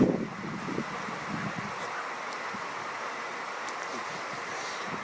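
Wind gusts buffet a camera tripod outdoors, a steady broadband rush with a stronger burst at the start, then settling into constant blowing noise.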